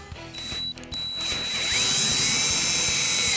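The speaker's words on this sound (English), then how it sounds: "So I'm going to drill close to the edge on these" Power drill boring mounting holes for storage boxes on an HDT, a brief whirring start, then a rising high-pitched spinning whine as the bit cuts in, loud and close.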